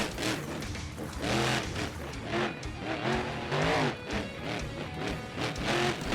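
The Megalodon monster truck roars around a BeamNG monster jam track, a loud continuous engine drone rising and falling through the revs as tires scrub, up close, with no talking.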